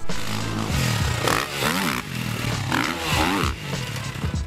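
A motocross motorcycle roars loudly up close, its engine revving and surging in waves as the bike lands a jump under throttle, with rattling and scraping mixed into the continuous blare.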